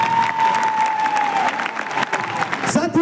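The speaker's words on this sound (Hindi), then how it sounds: "जोरदार ताली होना चाहिए" Loud, dense applause from a large audience at a Safe Shop business gathering, steady clapping filling the hall with a sustained tone and faint cheering underneath.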